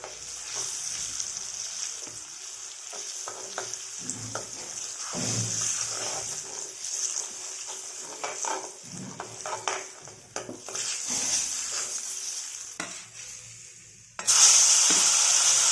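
Grated coconut fries in a small amount of oil in a pan, a steady close sizzle running throughout with occasional stirring scrapes, swelling louder in the final seconds.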